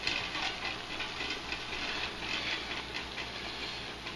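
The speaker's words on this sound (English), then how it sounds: "I'll lower it even more here, just a steady little simmer" Bean with ham soup at a steady low simmer in a pot gives a continuous soft bubbling hiss, faint and unbroken, with no talk.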